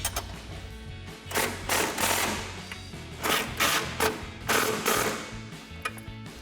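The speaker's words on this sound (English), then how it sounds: "now we can go ahead and tighten up the 2 bolts and nuts that hold our bumper to our bracket" A 14mm socket and wrench tighten the bolts and nuts holding an OEM-style chrome steel rear bumper to its bracket on a 2002-2008 RAM 1500, giving repeated bursts of metallic ratcheting and clanking, close and fairly loud, with no talk.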